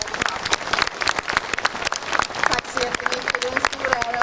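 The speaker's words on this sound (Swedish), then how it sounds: "Det tycker jag vi alla ska ge Kristina en applåd för." An audience at a National Day celebration in Kramfors, Sweden, applauding steadily, many hands clapping together in a dense, continuous patter, with a few voices murmuring underneath.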